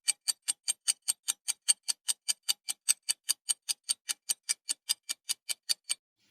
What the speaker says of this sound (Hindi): जवाब है इस पहेली का घड़ी